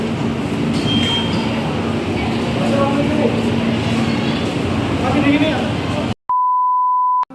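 A train rumbles past at close range, a loud, steady rolling roar lasting several seconds, with people talking over it, ending abruptly and followed by a long electronic beep.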